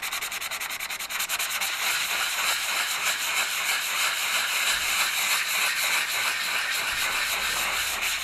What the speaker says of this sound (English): I'm going to be here a while just rubbing this down